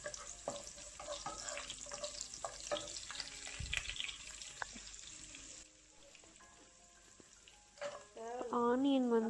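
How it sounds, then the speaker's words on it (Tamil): Chopped garlic sizzles and fries in a pan for a vegetarian fried rice, a steady crackle with stirring clinks and a brief burst of running tap water near the end. "ஒரு 10 பல் பூண்டு சேர்த்துக்கோங்க"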